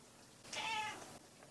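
A female house cat gives a single clear meow of about half a second, close and alone against a quiet room.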